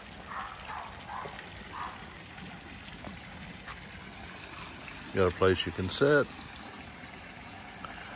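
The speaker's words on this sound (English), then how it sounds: "looks like statues of three ladies pouring water into the pool" Water pours from statues of three ladies into a pool at a peaceful Bali resort, a soft continuous trickle in the background, with someone speaking briefly over it partway through.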